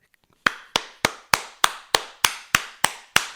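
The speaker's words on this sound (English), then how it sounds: "I'm going to applaud the judge" One person claps alone, close and sharp, with ten evenly spaced claps at a slow, deliberate pace after a moment of near silence.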